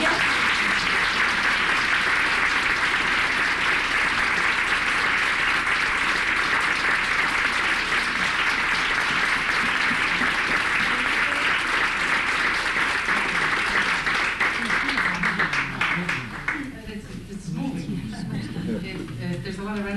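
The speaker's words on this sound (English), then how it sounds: "So let's have a nice round of applause" A large crowd claps loudly and steadily, sustained applause filling the space before fading toward the end as voices and cheers rise.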